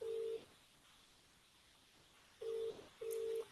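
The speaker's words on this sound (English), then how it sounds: "Is your phone ringing?" A phone rings during a Zoom call: a steady electronic tone sounds in three short bursts, with quiet pauses between them and no talking.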